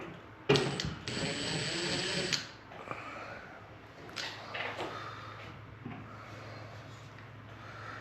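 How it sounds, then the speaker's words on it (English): Screws being backed out while fitting a modern ceiling fan: a loud buzzing whir of a powered driver runs for about two seconds, followed by softer scraping and brief mechanical rattles. "I took out the wrong screws, so just take them all out."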